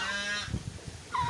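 A baby goose honks in a couple of close, high-pitched calls at the start and end, with a soft thump of movement in between. The gosling is weak and struggling after being trampled.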